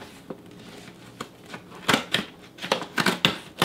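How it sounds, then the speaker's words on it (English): Cutting with a poor-quality pair of scissors, giving a series of short, sharp snips that grow more frequent toward the end, close up and with no talking. "Not a very good scissors, no."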